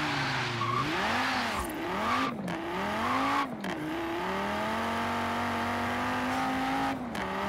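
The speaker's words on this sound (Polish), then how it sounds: "Najpierw gaz do końca, patrzę jak to łapie przyczepność." A Donkervoort D8 GTO in Forza Horizon 3 at full throttle, engine revving up and shifting through rising and falling tones while tires scrub and squeal, loud and close, with brief breaks between gear changes.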